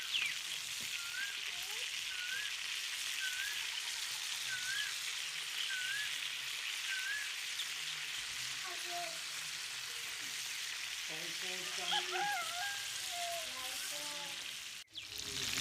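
Fish frying in a pan for biryani gives a steady, even sizzle throughout. Faint birdsong-like chirps and a few clinks are heard alongside, with a sharp knock near the end.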